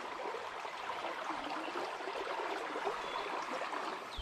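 River water at Clear Creek rushes in a steady, even wash that fills the whole stretch, with no voices over it.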